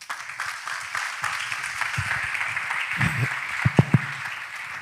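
Audience at a school freshers' orientation in Ghana claps for a young man, a broad steady wash of applause with a few louder individual claps and shouts rising near the end.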